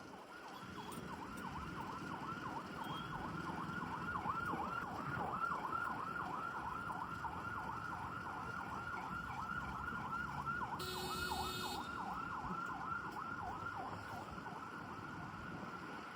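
An ambulance siren wails steadily in a repeating up-and-down pattern on a road beside elevated corridor construction work, moderately loud over continuous traffic noise, with a brief high electronic tone partway through.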